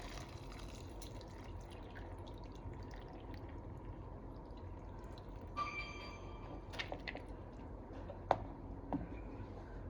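Water runs and drips quietly while soaked chana dal is washed in a kitchen, with a few soft splashes and clinks later on, all faint and close.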